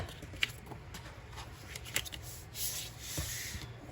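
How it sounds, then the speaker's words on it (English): Folded paper on a Halloween folio craft project is burnished by hand, giving soft, faint rubbing and brushing strokes with a few light taps, quiet and close. "go ahead and burnish those"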